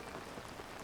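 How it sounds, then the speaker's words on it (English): Steady pouring rain in the video game Zelda: Tears of the Kingdom, a soft continuous hiss of falling drops, faint and uniform with no voices. "What do you mean it's pouring rain?"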